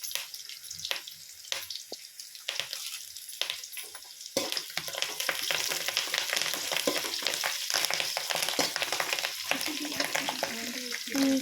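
Chana dal and fresh curry leaves fry in hot oil, a continuous close sizzle and crackle with scattered stirring scrapes.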